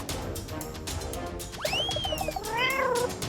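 A cat gives a couple of clear, rising meows near the end, close by, over a busy background of voices and indoor noise.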